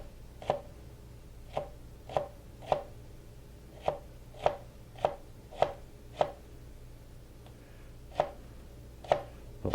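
A knife cuts narrow slices of jalapeños on a cutting board, a series of about a dozen crisp, close taps at a loose steady pace with brief pauses, and no talking.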